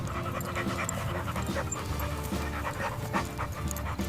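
Dogs running around a park pant steadily, quick rhythmic breaths close by over a soft low background, with no talking.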